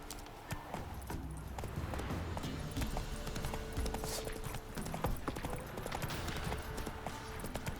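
A horse gallops in the video game The Witcher 3, its rapid rhythmic hoofbeats steady and close over a busy game soundscape, with no clear talk.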